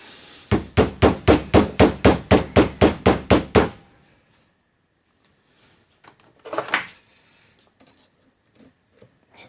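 An AN hose fitting is tapped into place with about a dozen quick, evenly spaced metallic knocks, close and crisp, followed by quiet handling noises and a brief scrape.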